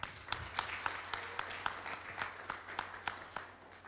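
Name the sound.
audience applause at conference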